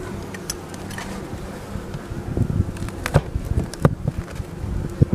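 Honeybees of a heavily propolised colony buzz around hive UL-16 on a hot September day, a steady low drone close by, with sharper passing hums as individual bees fly near.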